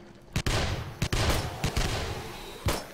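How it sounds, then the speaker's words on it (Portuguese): Gunfire in the 7 Days to Die video game: four or five loud, sharp shots spaced irregularly over a few seconds, each followed by a rumbling tail. "Então dá tiro. Vou dar tiro mesmo."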